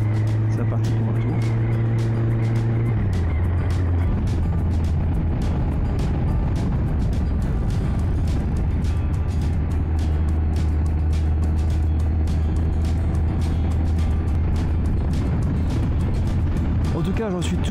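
A Kawasaki ZZR 1400 motorcycle riding along a road toward Houffalize, its engine droning steadily with a pitch shift early on, under wind rush and someone speaking.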